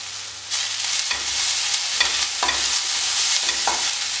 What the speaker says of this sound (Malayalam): ഇഞ്ചിയുടെ വെളുത്തുള്ളിയുടെ പച്ചച്ചുവൻ മാറുന്നത് വരെ നല്ലപോലെ ഒന്ന് വഴറ്റി കൊടുക്കണം